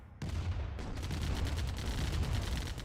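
Tank gunfire hitting a harvester in the real-time strategy game C&C Remastered, a sudden onset into continuous rapid firing and explosive rumble that stays loud throughout.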